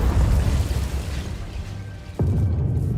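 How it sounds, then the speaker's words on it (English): A sudden loud boom bursts in near the end, breaking over a steady low rumble of game ambience in the video game Hell Is Us. "That was like an explosion."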